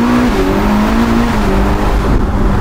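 A Novitec Ferrari SF90 Spider fitted with a sport exhaust, driven in manual mode, gives a loud, close, continuous exhaust roar, its engine pitch stepping between gears.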